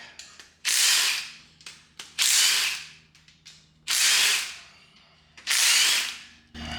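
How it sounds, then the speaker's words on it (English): A ratchet wrench loosens a small M8 bolt on the top bank of a fresh 5.3L LMF V8 cylinder head, giving four loud, close bursts of rapid clicking, each lasting about a second, separated by quieter handling noises. "First we take off the small bolt on the top bank."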